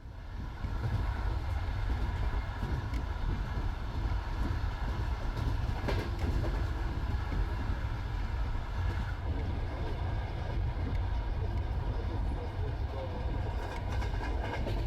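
Steady rumbling and rattling of a moving Ukrainian passenger train on the rails, continuous and fairly loud, heard from inside a sleeper compartment.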